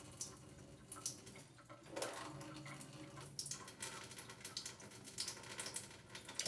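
Water trickles and splashes out of a lightweight Dyneema gravity water filter in a fast, steady flow, quiet and close, with faint drips and spatters.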